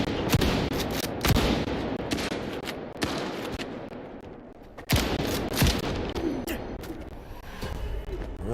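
Rifle fire in a shooter video game: sharp repeated gunshots in irregular bursts, some close and loud, others further off, with a voice briefly speaking.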